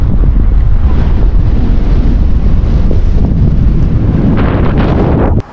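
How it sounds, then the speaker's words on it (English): Relentless icy Arctic wind blowing along the Svalbard coastline, a loud, continuous roar buffeting the microphone with deep rumble throughout, cutting off abruptly at the end. "But the icy Arctic wind was relentless."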